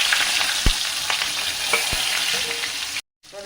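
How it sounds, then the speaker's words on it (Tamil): Small shallots and crushed garlic with curry leaves fry in oil for a drumstick thokku, a bright steady sizzle broken by a few stirring knocks before a sudden brief cutout. "பாருங்க வெங்காயம் வெள்ளைப்பூடும் நல்லா எண்ணெயிலே ஃப்ரை ஆகிடுச்சு."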